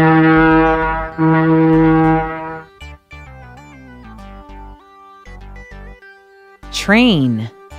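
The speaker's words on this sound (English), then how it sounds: "Ship." A deep, sustained ship's horn sounds twice in long blasts, followed by talking and a brief rising-and-falling wail at the end.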